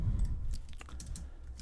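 A computer keyboard being typed on, a quick run of close, light key clicks with a low background hum and no talking.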